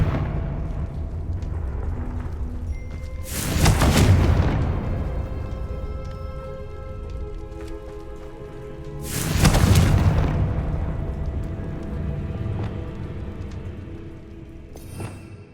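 Two booming Confringo spell explosions from Hogwarts Legacy burst about five seconds apart, each a loud broad blast fading into a rumbling tail over a steady game backdrop.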